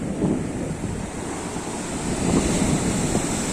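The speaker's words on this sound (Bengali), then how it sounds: "কিভাবে ঢেউগুলো আসতে দেখো।" Heavy sea waves surge and crash at Digha beach during a new-moon spring tide, a loud, rolling roar mixed with wind buffeting the microphone, with no voices.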